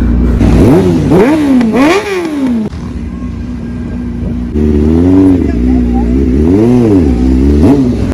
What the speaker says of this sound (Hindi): भाई आवाज़ सुनो यार भाई कौन कहता है कि आर वन फाइव से मैच करती है ये लोग भाई बहुत ही लाउड है